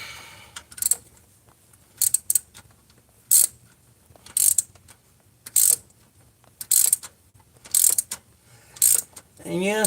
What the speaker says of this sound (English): And yes, I do have an air ratchet.